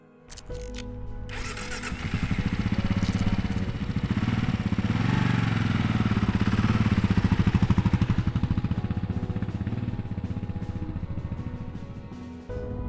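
A Kawasaki KLR 650 single-cylinder motorcycle engine thrums steadily, rising and holding as it rides along on a February day with snow, with wind rush over the mid-pitched drone.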